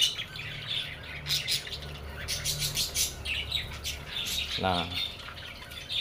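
Parakeets around a bamboo nest box, chirping and squawking close by in frequent short calls, with someone speaking briefly.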